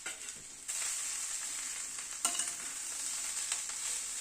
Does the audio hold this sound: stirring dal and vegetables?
yes